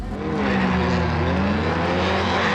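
A drag race car with a 130 to 140 cubic inch engine making about 250 horsepower accelerates hard, a loud, close, continuous roar with rising engine tones and a harsh, gritty edge throughout.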